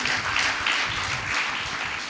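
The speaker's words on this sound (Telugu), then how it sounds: "నా మాట అర్థమైతే చప్పట్లు కొట్టి ప్రభువును మహింపరచండి" A church congregation applauds during a Telugu sermon, producing a thick, continuous wash of many hands clapping together that holds steady and fairly loud from start to end.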